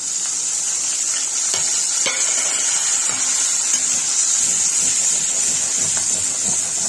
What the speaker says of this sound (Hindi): लहसुन, अदरक, हरी मिर्च और प्याज का पेस्ट तेल में डाल देंगे।